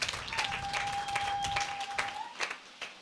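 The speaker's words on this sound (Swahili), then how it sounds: "Pigie Yesu makofi begini" A church congregation claps for Jesus at a preacher's call, a burst of rhythmic, fairly loud applause with a sustained electronic tone running underneath, fading out near the end.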